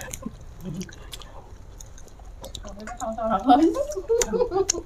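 Someone chews fried jengkol beans close up, with soft wet bites and squishy mastication. Other people talk over and around the chewing.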